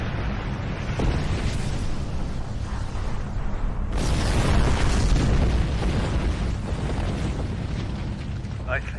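Starship weapons fire and explosions in the video game Star Trek Online, with a loud, sustained rumble of booms and bursts and a sharp blast partway through, under radio-style voices giving orders.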